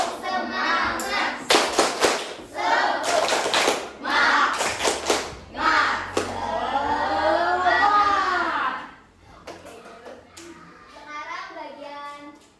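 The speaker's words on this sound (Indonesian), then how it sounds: "Tepuk semangat." Schoolchildren at an elementary school anti-bullying seminar perform a rhythmic 'tepuk semangat' clapping chant, sharp patterned claps in quick bursts with chanted voices, ending in scattered talk.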